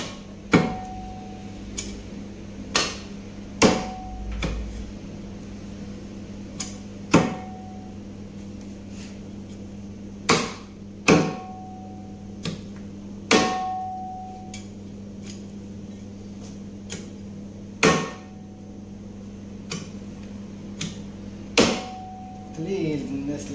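A cleaver chops through bone in meat cutlets, sharp single thwacks at irregular intervals, about a dozen close and loud blows over a low steady hum, with no talk between them.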